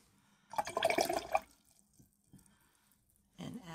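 Water spatters and trickles during a watercolor painting session with ink, in a soft burst lasting about a second and a second brief splash near the end, with quiet gaps between.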